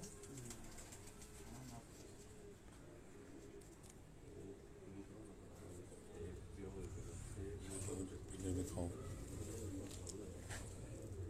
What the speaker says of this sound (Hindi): ये प्योरली सियालकोटी ब्रीड से ये मॉडिफाइड कबूतर हैं